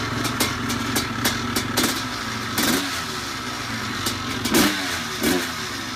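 A two-stroke motorcycle engine buzzes steadily and close, with a sharp rising rev around the middle and another brief surge near the end, no voices over it.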